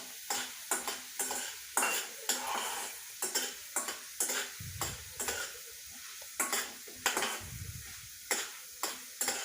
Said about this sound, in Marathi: हरभऱ्याची डाळ तळून घेऊ आपण